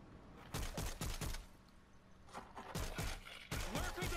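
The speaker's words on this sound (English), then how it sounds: "you can hear the turret shooting" Automatic turrets firing on a cruise ship during a zombie swarm in World War Z, several sharp rapid bursts of shots separated by short pauses, fairly quiet and in the distance.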